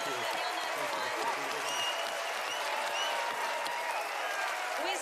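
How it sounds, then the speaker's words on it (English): Warm studio audience applause on a magic competition show, a full, sustained round of clapping with scattered whoops and crowd noise throughout. "let's give them a really warm happy birthday round of applause, everyone"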